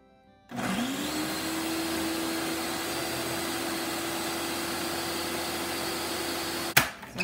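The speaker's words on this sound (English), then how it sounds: "Now we're going to cut on the mixer and mix everything." Electric mixer switches on and whirs loudly at a steady pitch while blending homemade skin moisturizer, a constant motor drone that ends with a brief clatter.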